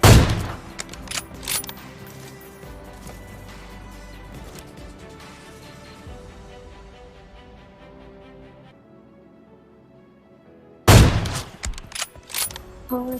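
Gunfire rattles in a shooter video game. Sharp rapid bursts come at the start, scattered shots thin out through the middle, and a fresh loud burst of fire erupts near the end.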